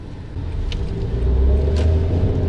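A Honda N-Box Custom Turbo kei car drives along a narrow street, a low engine and road rumble heard from inside that swells a little louder partway through, with a couple of faint higher hisses.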